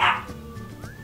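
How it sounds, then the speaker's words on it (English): A dog gives one sharp, close bark at the start, followed by faint softer yips and whimpers in a quiet room. "Don't mind my dogs."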